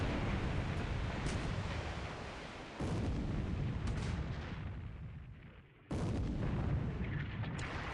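Deep booming blasts of 8-inch naval gunfire in the War in the Pacific game, a heavy cruiser squadron firing at the carrier Kaga, with two loud rumbling bursts about three seconds apart over sustained low roaring.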